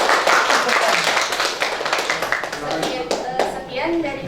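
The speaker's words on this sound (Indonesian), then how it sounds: "kita kasih tepuk tangan dulu untuk kelompok 1." Classroom clapping for a student group, a short burst of many hands clapping together in a room, with voices talking over and after it.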